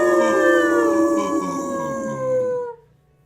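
Several people imitate a dog howl together, sustained layered voices in long wavering tones that hold steady and then fade and stop near the end.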